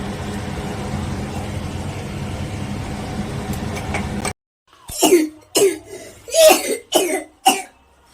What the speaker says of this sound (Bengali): কাশি থামছে না